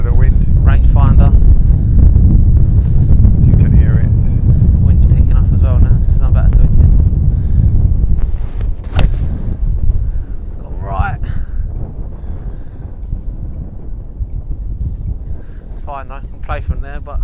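Strong wind buffets the microphone on a golf course, a loud low rumble that dominates the first half and then eases. Voices talk over it throughout.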